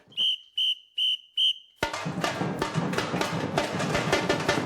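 A teacher's whistle in a music classroom sounds four short, evenly spaced blasts, then a class bursts into loud, busy music-making or clatter that continues to the end.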